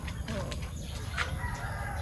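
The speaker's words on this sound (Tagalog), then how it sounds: "Mga alaga naming manok yan" Free-ranging backyard chickens kept in Davao, heard as a dense, continuous farmyard mix of clucking with a brief crow rising near the middle, loud and close, with faint talk in the background.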